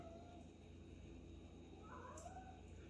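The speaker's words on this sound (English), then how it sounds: "My cat's playing over there, just meowing if you can hear that." A pet cat meows while playing in another room, two or three faint, drawn-out calls heard distantly under a steady low household hum.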